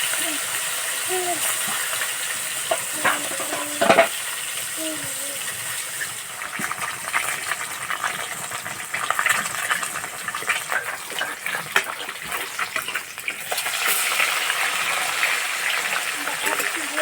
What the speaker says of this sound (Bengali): উল্টে পাল্টে বেশ করে ভেজে নেব।